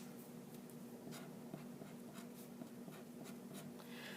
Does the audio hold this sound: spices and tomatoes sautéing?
no